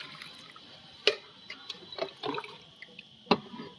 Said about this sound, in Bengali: আর আমি প্রথম জলটা ভাসিয়ে দিয়ে দেব